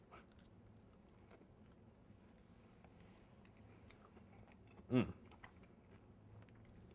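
A single crisp bite into a crunchy fried arancini rice ball with melted cheese inside: one short, close crunch standing out from an otherwise quiet background.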